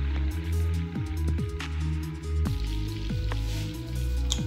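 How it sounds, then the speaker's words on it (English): Chicken stock poured into a cooking pot while making Italian risotto, a steady close liquid rush with bubbling, splashing and dripping textures running throughout and no talk. "I just poured the stock water into my pot."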